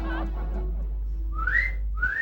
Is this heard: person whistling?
yes